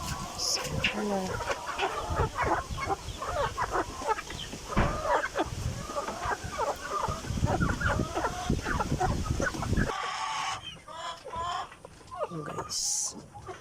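Native, layer and Rhode Island Red chickens cluck and chatter continuously up close, one of them sick, with a rooster-like call among them and a person talking over the birds.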